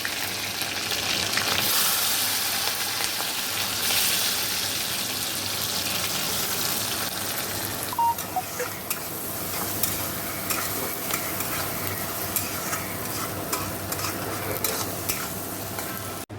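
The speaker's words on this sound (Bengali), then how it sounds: "দেখো আগে রসুনটা দিয়ে দিলাম একে একে সবই দিয়ে দেবো" Garlic fries in hot oil in a home kitchen pot, giving a steady loud sizzle with occasional stirring scrapes; partway through the hiss thins and small clicks and spatters continue, with no talking.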